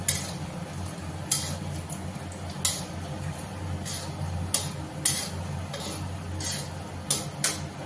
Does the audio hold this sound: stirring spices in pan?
yes